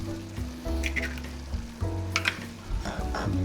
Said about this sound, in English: throw these nice eggs in the pan